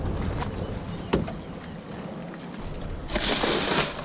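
Small fishing boat motoring slowly around moored boats on Sydney Harbour, a steady low hum of engine and water wash with wind buffeting the microphone and a brief hiss of spray near the end.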